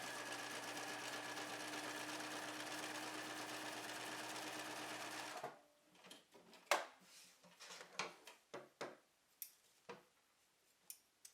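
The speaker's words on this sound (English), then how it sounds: "And then you'll sew the very last edge of the Velcro down." A sewing machine runs in one steady stretch of about five seconds, stitching down the edge of a Velcro strip, then stops, followed by a series of small, sharp handling clicks and taps, close and quiet.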